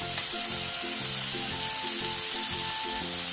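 Sliced potatoes sizzle and crackle in hot oil in a pan while being stir-fried, a steady frying hiss with rhythmic scraping of stirring throughout.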